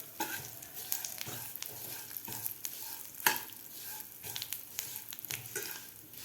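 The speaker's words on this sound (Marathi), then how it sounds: "तीळसुद्धा आपले व्यवस्थित भाजलेले आहेत असा तडतड आवाज येत आहे" Sesame seeds roasting in oil for a spicy coconut raja rani chutney, giving a soft continuous crackle and sizzle with repeated stirring scrapes, quiet and close, no voices.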